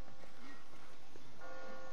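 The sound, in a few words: bells ringing in video game The Walking Dead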